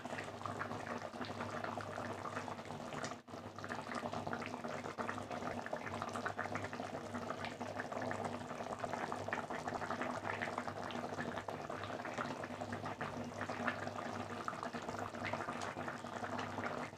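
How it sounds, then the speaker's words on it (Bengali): Fish curry gravy boils in a pot, a dense, steady bubbling and simmering that carries evenly throughout with no voices over it. "গ্রেভিটা তো ফুটে গেছে"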